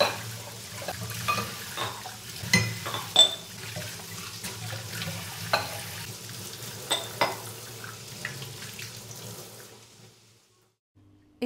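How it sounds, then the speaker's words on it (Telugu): Onions, carrots and tomatoes frying in a pan while being stirred, giving a steady close sizzle with scattered spoon scrapes and clinks, then cutting off to near silence toward the end. "ఆనియన్ సాఫ్ట్ అయ్యేదాకా ఫ్రై చేసుకుంటే సరిపోతుంది"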